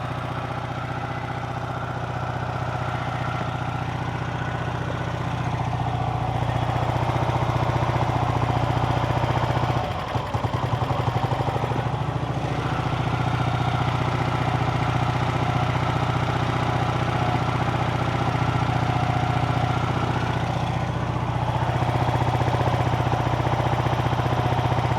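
A Norton 88 Dominator motorcycle engine runs steadily throughout, a close, loud, even idle-like drone with a brief disturbance partway through and no talk over it.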